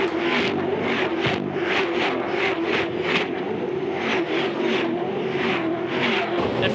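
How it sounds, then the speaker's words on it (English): V8 Supercars in the 2010 Fujitsu V8 Supercar Series at the Adelaide 500 restart, engines pulsing in quick, repeated bursts as the pack accelerates, loud and continuous with a steady underlying roar. "Time to restart race two of the Fujitsu V8 Supercar Series."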